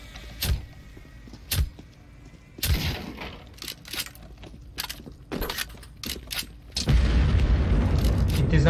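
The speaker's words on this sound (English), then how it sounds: "The first wave of missiles are about to be fired." Missile explosions in CS:GO Danger Zone on the Blacksite map: a handful of loud, sharp booms at irregular intervals, then a sustained rumbling roar near the end.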